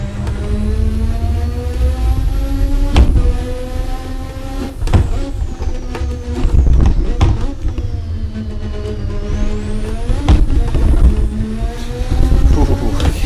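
Turbocharged race car in Assetto Corsa, its engine revving hard and loud with rising pitch sweeps through repeated gear changes, with brief cuts and surges as the car accelerates up close.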